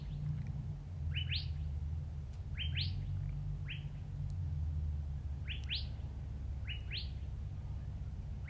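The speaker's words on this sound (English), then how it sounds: "Can you hear the birds singing out here?" Birds chirp in short bright bursts, several calls spread across the clip, over a steady low rumble of outdoor background noise.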